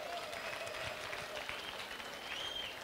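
A crowd audience applauding at a live event, a steady wash of clapping and faint cheers lasting the whole stretch at moderate loudness.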